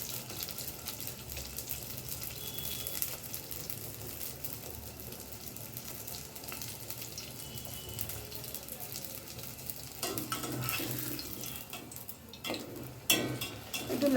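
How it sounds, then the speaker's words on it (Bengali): Baby naan frying in hot oil in a pan, a continuous close sizzle and crackle with occasional bubbling surges and faint clinks near the end. "এখন পাত্রে তেল দিয়েছি, একটু গরম হয়ে গেছে, আমি একে একে ভাজবো।"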